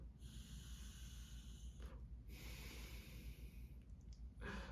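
Slow, close breaths drawn in through a natural inhaler made from a frayed core, two long airy inhalations separated by brief pauses, soft and alone.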